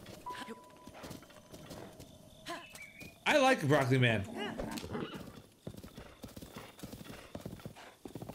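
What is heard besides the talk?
horse galloping in a video game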